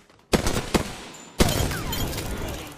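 Gunfire in Apex Legends: two sharp shots in quick succession, then a louder blast about a second later that rings on with a decaying tail and scattered debris noise, all close and without talk.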